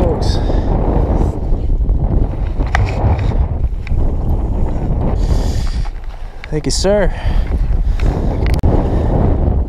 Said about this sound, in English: it is super windy and it's making fishing tough